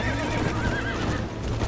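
Horses whinny loudly in the video game Red Dead Redemption, with clip-clopping hooves and steady game ambience underneath, while cattle are herded along.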